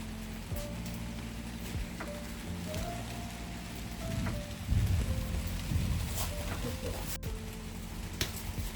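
Rain falls in a garden under clouds and gusty wind, a steady soft patter with occasional nearby knocks and clatter as people move about close by.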